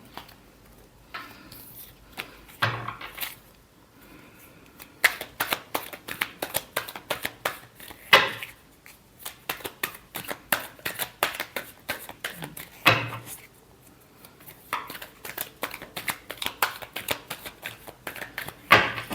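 Tarot cards shuffled by hand, close and clear, in repeated bursts of crisp flicking and riffling taps with brief pauses between them.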